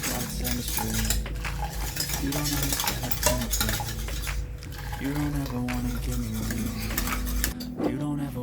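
Crème brûlée mixture being whisked while cream is poured in produces rapid clinking and scraping of a whisk against a bowl, close and continuous.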